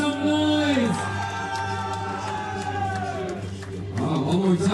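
Crowd at a beach tennis match between Brazil and France cheering and whooping under an announcer's amplified voice, with a steady hum beneath.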